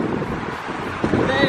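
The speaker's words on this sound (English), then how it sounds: "it's windy, it's windy, it's windy" Steady wind buffeting the microphone, a broad rushing roar that swells slightly near the end, loud and close.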